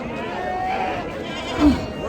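Horned sheep bleat amid the crowd at a large livestock market in Chakan, Maharashtra, one short bleat rising through dense surrounding chatter and voices nearby.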